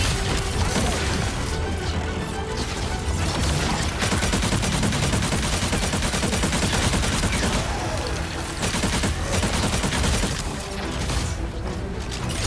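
Rapid gunfire and rocket blasts in the Marvel Rivals video game, a dense, continuous barrage of shots, booms and crashes that stays loud throughout with little letup.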